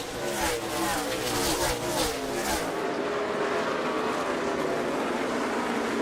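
NASCAR stock cars racing at Bristol on the final lap in traffic, a loud, continuous engine roar with rising and falling passes throughout, crowd and commentary noise blended underneath.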